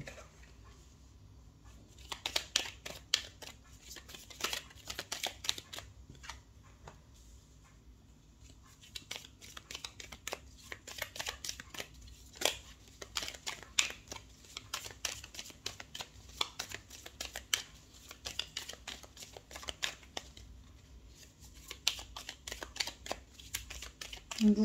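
Tarot cards are shuffled and dealt out one by one for a Gemini reading, soft close rustles and flicks with papery slaps in an uneven rhythm, quiet throughout.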